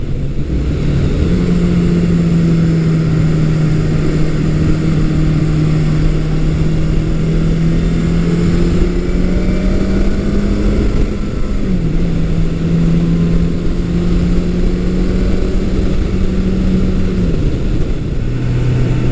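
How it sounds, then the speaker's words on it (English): Vintage early-1980s Suzuki GS750 motorcycle ridden at high revs, a steady loud engine drone holding pitch with a brief dip as it shifts, heard over constant wind rush. "especially if you kind of wring it out a little bit and get it up higher in the rev range, it pulls as hard as a lot of the bigger bikes"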